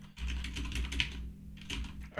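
Rapid clicking of keystrokes on a computer keyboard during a programming session, in two bursts with a short pause between, close and moderately quiet over a low steady hum.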